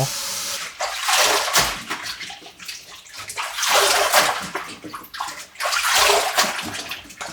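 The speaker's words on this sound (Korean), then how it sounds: "물에 푹 잠기게 해서 흔들어 씻어주고" Green garlic is shaken back and forth while submerged in a basin of water, producing loud rhythmic sloshing and splashing in repeated surges, close up and without talk.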